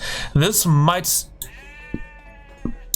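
Sheep in the strategy game Age of Empires bleat in a few short, nasal cries near the start, followed by lighter game sounds while a commentator talks over them.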